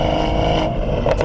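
A BMW 440i with a catless downpipe on its stock tune accelerates, its engine giving a steady, loud droning roar throughout with a brief swell near the end.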